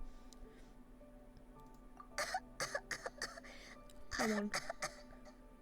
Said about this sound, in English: Why is she coughing like that?